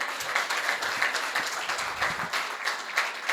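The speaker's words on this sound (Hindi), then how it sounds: "तो एक बार जोरदार तालियां बजाइए" An audience at a Hindi poetry gathering (kavi sammelan) in Maujpur breaks into loud, sustained applause, with dense overlapping claps carrying steadily through the whole stretch.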